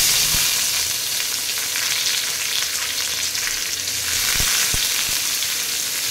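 Onions sizzle steadily in a hot pan while ash gourd kootu is being cooked. The frying is close and even, with a few sharp clicks from stirring.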